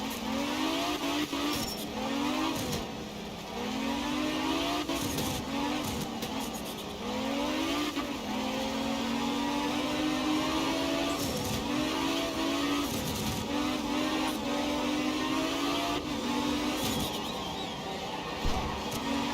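A Formula 2 race car engine in Assetto Corsa at Interlagos screams as it accelerates through repeated gear changes, pitch climbing and dropping in steady cycles with faint tire noise, loud and continuous with no talking.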